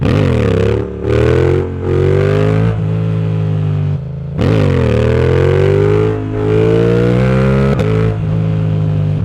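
A 2025 Yamaha MT-07 motorcycle roars loudly up close as it launches from standstill in first gear for a wheelie, the engine revving hard in several rising surges with brief dips between.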